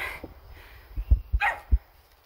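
A dog barks several times in short, sharp bursts, close by and fairly loud outdoors, with quieter sounds between the barks.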